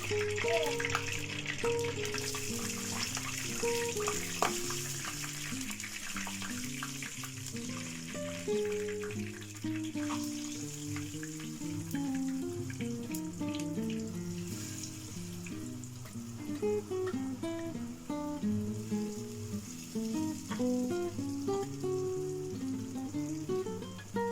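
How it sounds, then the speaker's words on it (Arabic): Cauliflower pieces frying in heated oil, a steady bubbling sizzle that runs throughout with faint clinks, moderately close and alone. "نسخن الزيت ونقليه. دلوقتي هننزل بالقرنبيط."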